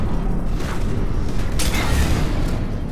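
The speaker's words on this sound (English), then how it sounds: "This thing shoots explosive rounds." A heavy explosion from a mech's explosive rounds in Mass Effect 3 rumbles through dense, continuous low-frequency combat noise, with a brighter blast burst near the middle of the stretch.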